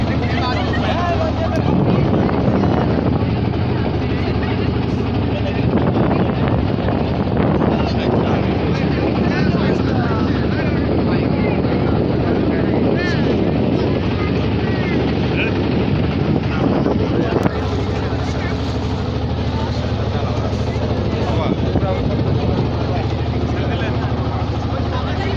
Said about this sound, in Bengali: এটা নৌকা ছাড়ার সময়